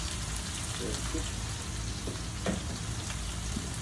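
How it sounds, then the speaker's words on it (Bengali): Chopped onion frying in hot ghee for a biryani, giving a steady, close sizzling hiss with a few small pops throughout and no talk. "ঘির মাঝে সামান্য পেঁয়াজ দিয়ে ফ্রাই করে দিলাম"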